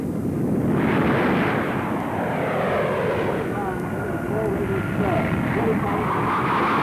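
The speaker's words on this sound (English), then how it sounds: "Wing Commander Roland Beaumont, Chief Test Pilot of English Electric, pilots the latest version of the Canberra jet bomber" An English Electric Canberra jet bomber flies past at an air show with a loud, broad roaring jet engine that swells and fades. A commentator speaks over the noise.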